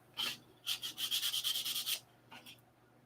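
Hand sanding of superfill filler on aircraft parts, a few quick rubbing strokes followed by a steady run of about nine rhythmic back-and-forth passes, then a short pair of strokes, close and fairly quiet.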